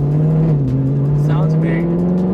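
A Mercedes SLS AMG with an upgraded exhaust accelerates hard from inside the cabin, a loud, steady, deep engine drone rising slightly in pitch, with brief talk over it.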